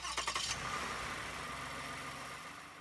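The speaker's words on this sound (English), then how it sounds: "Start the engine" A Toyota Lexus V6 car engine cranks with a short burst of starter whirring, then catches and settles into a steady, close, fairly loud idle with no talking.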